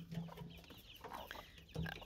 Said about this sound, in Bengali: এই যে এখানে সব টাইগার মুরগিগুলা আছে